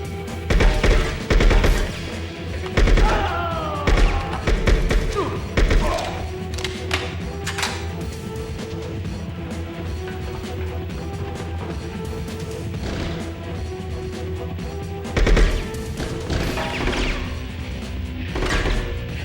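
Pistol shots in the Bad Boys Miami Takedown video game crack out in scattered bursts of sharp impacts over game music and background ambience, with a long quieter stretch between volleys.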